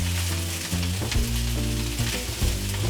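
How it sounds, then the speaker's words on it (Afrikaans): Pork belly and thinly sliced cabbage fry together in a single pan, giving a loud, close, continuous sizzle broken by scraping stirs, with no speech. "dit is tyd vir die kool. Maak seker die kool is baie dun gesny, sodat jy iets het wat amper stoom met die hitte"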